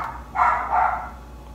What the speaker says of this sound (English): She's barking like crazy